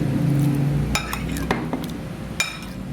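A spoon stirs a vinegar-seasoned dish in a pot with several bright clinks and scrapes against the metal over a low steady background hiss.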